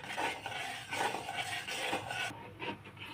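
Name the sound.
stirring gram flour chutney mixture in a pan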